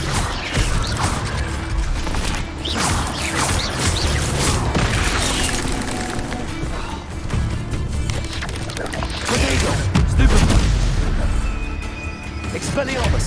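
Expelliarmus spells are cast in the Hogwarts Legacy video game: loud bursts of crashing, creaking and clanking magic effects follow one another in quick succession, while a voice shouts the incantations over them.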